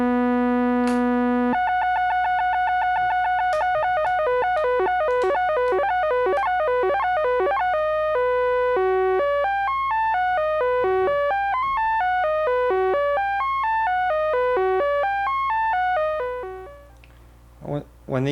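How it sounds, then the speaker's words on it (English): A synthesizer oscillator driven by a sequencer steps through rapid pitch patterns, bright electronic notes cycling in repeating runs before fading out near the end. "I'll use a sequential controller to impart changes in the pitch of the oscillator."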